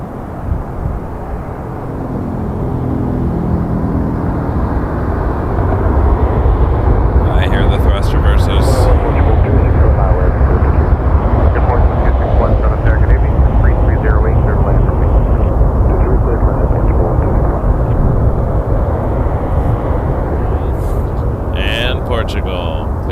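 A Boeing Dreamliner airliner at Toronto Pearson airport makes a steady, loud, broad engine roar that builds over the first few seconds and holds. Air traffic control radio talk sits over the noise.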